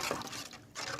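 Water poured into cooked moong dal for village-style rasam, a brief close splashing pour lasting about a second, with no voices.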